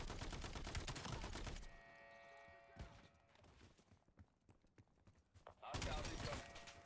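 Gunfire in Black Ops 7 comes as dense, rapid bursts at the start and again near the end, with sparser single shots and clatter between and a voice talking partway through.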